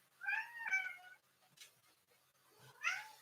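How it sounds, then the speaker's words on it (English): A house cat meows nearby, two drawn-out meows with a gap between, clear against near silence. "If you heard my cat, I think he agreed with that as well."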